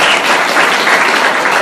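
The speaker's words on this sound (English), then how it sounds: "Please give a round of applause for our panelists." Audience applause for a panel on the misuse of technology and its impact on health: dense, even clapping from a room of people, loud and continuous through the short moment with no talking.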